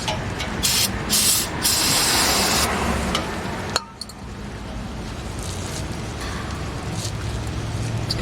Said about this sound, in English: spray some carb cleaner up there